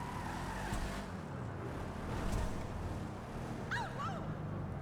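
A 1968 Ford Mustang Rapid GT Classic in GTA 5 Online, its engine droning steadily with a rough low rumble that swells slightly, joined by a brief higher squeal near the end.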